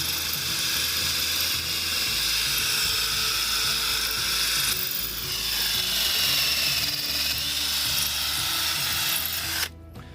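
Power drill boring into a cinder block wall: a loud, steady grinding whir with rattling masonry chatter, held for about ten seconds before cutting off abruptly, no voices.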